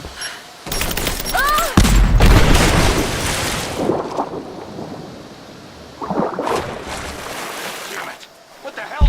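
A grenade blast in the Rise of the Tomb Raider video game: a loud, broad boom near the start, followed by a couple of rumbling bursts and faint background noise, with scattered gunfire-like cracks.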